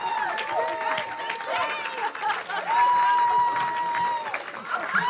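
Event audience at an HR speaker night in Columbus, Ohio clapping and cheering as speakers gather on stage, a steady dense wash of applause with a voice talking over it.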